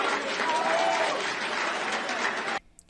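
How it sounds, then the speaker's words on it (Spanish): A crowd bursts into sustained, dense applause at a public event, loud and steady for about two and a half seconds before cutting off abruptly. "Lo que más impacta de esta secuencia son los aplausos."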